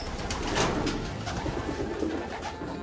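A large male pigeon, a barako, coos steadily against a dense, noisy background, with the low murmuring calls running continuously throughout.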